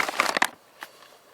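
Someone chews a crunchy coconut portable meal snack close to the mic, with a quick burst of loud crunches followed by one fainter crunch, and no talking.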